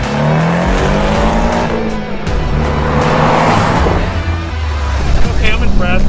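A car driving hard at the LA Auto Show with tires squealing, loud and close, its engine roar and sustained tire screech filling the whole stretch, with a faint voice underneath.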